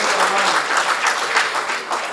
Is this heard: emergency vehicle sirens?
no